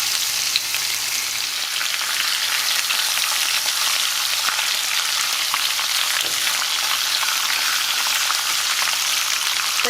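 A steak sears in a hot pan for Mexican steak and onions, giving a steady, close, crackling sizzle that holds evenly throughout with no speech over it.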